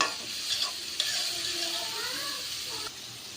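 Shrimp and cauliflower fry in a pan while being stirred, a moderate sizzle with soft scraping strokes, and a voice talks faintly over it.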